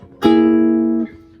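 Guitar chord plucked with pick and fingers together, a single clean, ringing strike that sustains for under a second before being damped, close and alone.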